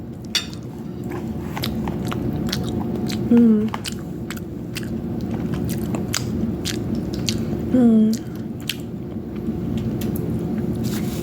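Biting and chewing on a beet pancake made with potatoes and egg whites, heard as soft, moist mouth sounds close to the microphone. Two brief voiced hums break in partway through.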